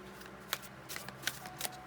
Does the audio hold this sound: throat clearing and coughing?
no